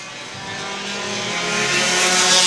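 Four-cylinder enduro race cars roar past at a speedway, a loud, continuous engine drone that swells steadily as the pack approaches.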